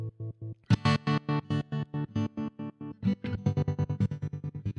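Cusack Tap-A-Whirl tremolo plugin cycling through different waveforms, a bright tone gated into even, choppy pulses that shift shape and speed midway, loud and alone.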